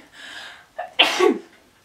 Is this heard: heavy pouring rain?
no